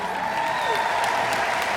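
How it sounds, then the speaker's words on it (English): Brief applause from a convention crowd welcoming first-time attendees, a steady wash of clapping mixed with a sustained tonal hum and some background voices. "Let's give them a round of applause"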